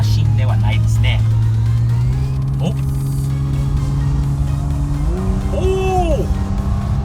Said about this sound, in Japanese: 今高速乗るんで、この VIP カーの見た目が分かるんだけど、実際に走るとどうなんでしょうね。